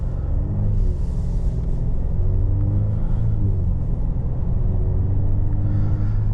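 A 2024 Volvo XC90 B6, a 48-volt mild hybrid, drives along the road. A steady low engine and road rumble with tire noise comes from inside the cabin and holds even throughout, with no talking.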